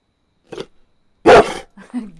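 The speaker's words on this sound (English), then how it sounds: "I love that dog. She's such a good dog." A pet dog barks in a home: a short yip, then one loud, full bark, followed by a softer, lower grumbling sound, each separated by silence.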